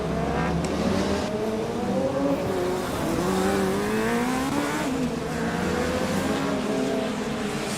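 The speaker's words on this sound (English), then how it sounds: "It sounds like Hawks has yet again been able to fire up the engine." A Formula Student race car engine runs at an endurance event, a steady nearby drone with shifting, rising and falling revs and no talk.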